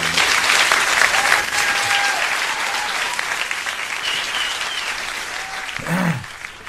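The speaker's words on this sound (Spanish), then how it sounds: "Bien merecidos esos aplausos" Sustained applause from a studio audience during a Saturday radio broadcast, dense and steady throughout, with faint voices underneath and a brief bump near the end.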